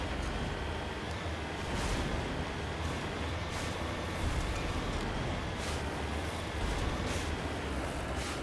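A tank-like vehicle drives in Mass Effect, giving a steady, dense engine rumble and rolling noise that continues evenly throughout, moderately loud with no talk.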